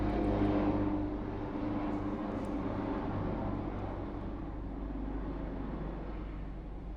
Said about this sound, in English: There's a plane passing.